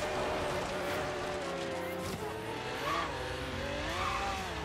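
A Dodge Viper in Forza Horizon 3 revs and accelerates out of a corner at half throttle, its engine note rising and falling in loud continuous sweeps with tire noise, under someone talking in Polish.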